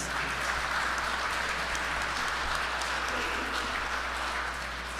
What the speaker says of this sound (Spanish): Un aplauso a ustedes, hermanos, felicidades.